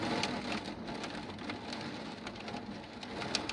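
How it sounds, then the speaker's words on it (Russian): Heavy rain during a strong thunderstorm, with water pouring off a house, gives a steady, faint hiss and patter with scattered drip-like taps, continuous and without speech. "И с нее выливается столько воды, что она начинает смывать стружки."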